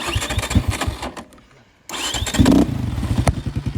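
A KOVI 300 LITE R motorcycle engine with a flute exhaust chugs at idle, cuts out briefly, then restarts with a rough burst and settles back into a loud, close, throbbing idle.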